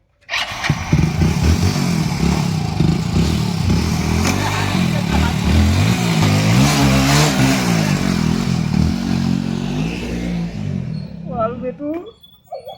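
A motorcycle engine runs loud and steady, its pitch rising and falling as it revs, with voices talking over it before it cuts off near the end.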